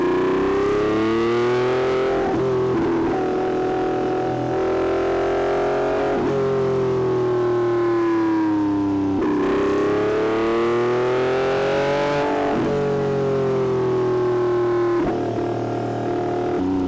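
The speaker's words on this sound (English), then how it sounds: "the sights and sounds of the Lamborghini Revuelto chasing down a 765 LT Spider" A loud, high-revving 1,001 hp Lamborghini Revuelto engine screams up and down through gear changes on a mountain road, rising and falling repeatedly as it drives, heard up close and alone.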